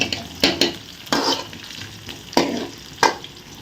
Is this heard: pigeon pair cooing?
no